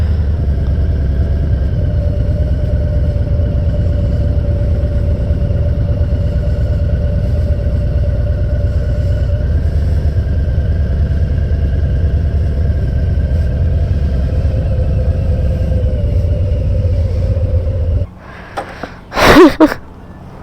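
Harley-Davidson motorcycle engine rumbling steadily up close as the rider pulls up, a low idling throb that holds for most of the time before cutting off, followed by a few brief rustling knocks.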